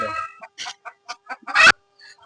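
A native country chicken clucks in short, separate bursts close by, ending in a louder, drawn-out squawk, with quiet pauses between calls.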